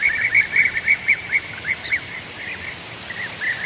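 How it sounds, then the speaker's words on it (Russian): Golden bee-eaters give repeated rolling, trilled calls in a short regular series against a steady hiss of insects and open tropical steppe in Shirvan National Park, Azerbaijan. "Одна из самых ярких птиц этих мест – золотистая щурка, пернатое тропическое чудо."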